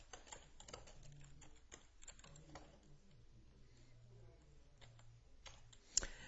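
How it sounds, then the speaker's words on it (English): Someone types a name and an address on a computer keyboard while setting up business software, with quiet irregular key taps in short bursts, close and soft, ending in one sharper click. "I type in my name and the address."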